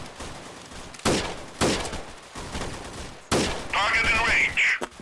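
Gunfire in the shooter game Freeman: Guerrilla Warfare, several sharp, loud bursts of shots with short pauses between them, then a stretch of sustained firing with ringing, whistling effects.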